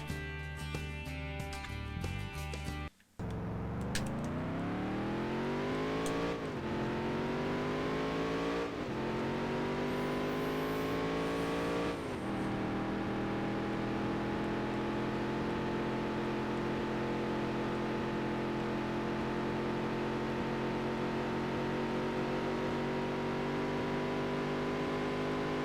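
Race car engines in the Dirt to Daytona video game roar continuously, with a brief cut followed by repeated rising accelerations through the gears, staying loud and steady for the rest of the lap.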